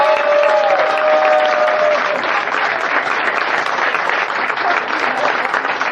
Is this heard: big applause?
yes